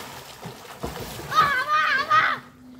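Village boys splash and play in a pond or river, with bursts of splashing water mixed with excited children's voices shouting and calling nearby.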